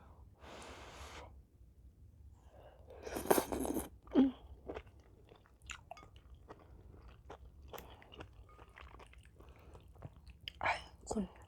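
Mushroom from a spicy mala suki hotpot chewed close to the microphone, soft wet crunches and mouth sounds in irregular bursts, with breaths and a few quiet spoken words in between.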